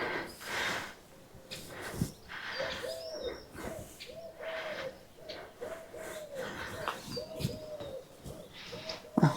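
Pigeons cooing repeatedly nearby, soft throaty rolling calls in a steady rhythm, with faint rustling and background noise between them.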